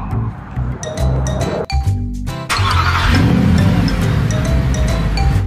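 A car engine started by remote start in cold weather, a near cranking burst followed by a steady engine rumble, with chiming and clinking sounds alongside.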